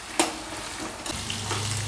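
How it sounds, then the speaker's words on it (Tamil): Garlic, onion and dried red chillies sauté in hot oil in a pan, making a faint, steady sizzle broken by a few sharp stirring clinks over two seconds. "வெங்காயம் போட்டுக்கலாம். போட்டு இதை வதக்கி எடுத்துக்கலாம்."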